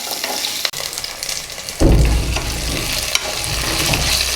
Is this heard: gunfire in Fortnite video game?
no